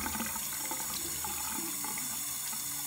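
Cold water running steadily from a tap into a sink, a continuous close splashing hiss with no talk over it.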